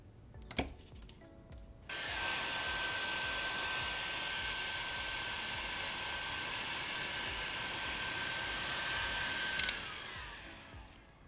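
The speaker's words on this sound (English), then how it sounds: "we're going to cinch this down with the heat gun" A heat gun shrinking heat-shrink tubing over drone motor wires: a click, then a steady close blowing roar that holds for several seconds before cutting off, with a faint whine underneath and no talk.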